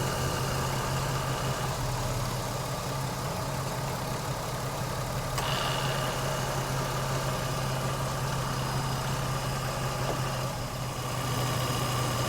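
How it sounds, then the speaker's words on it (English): The air conditioner compressor on a 2007 Jeep Liberty runs continuously alongside the engine, a steady low hum and drone with a faint mechanical whine and one brief click, no speech. "The compressor's now staying on all the time."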